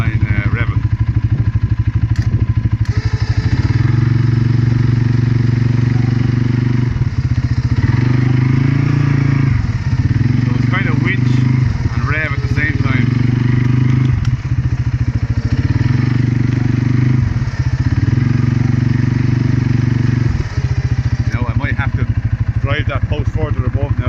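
A CFMoto CForce 450S 4x4 quad stuck in mud, its engine droning loud and close while being revved in repeated swells during a tough winch pull, with clattering mechanical noise over the top.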